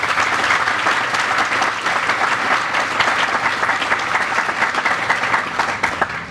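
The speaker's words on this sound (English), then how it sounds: "A big round of applause for them." A crowd at a hospital ribbon-cutting ceremony claps in a full, sustained round of applause, dense and steady throughout, with no pauses.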